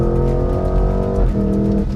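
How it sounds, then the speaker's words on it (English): A Porsche Cayenne GTS engine rumbles steadily nearby, its sport exhaust humming and shifting pitch partway through, with faint crackles and pops riding on top. "it gets you that sport exhaust, by the way, which is crackling and popping behind us and sounds amazing"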